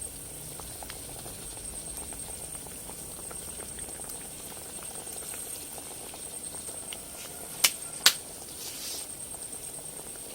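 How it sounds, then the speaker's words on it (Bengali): Curry gravy with fish roe koftas at a steady, lively boil in a pan, a continuous close bubbling and hiss with two sharp clicks near the end. "দেখুন ঝোলটা ফুটে গেছে"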